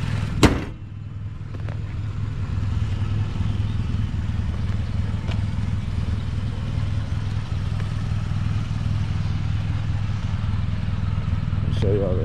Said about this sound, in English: Motor sound good.